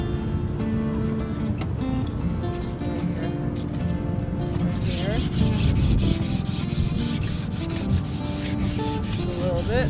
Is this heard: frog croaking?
no